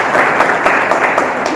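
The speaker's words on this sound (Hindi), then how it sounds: "जरा काका जी के नाम पे ताली बजाओ एक बार।" A seated audience at a classroom-style lecture claps together, a lively, slightly uneven patter of many hands with small sharp peaks, steady and fairly loud throughout.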